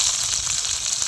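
Mustard seeds crackle in hot oil as a dense, steady sizzling hiss with faint pops, close and continuous for a brief moment.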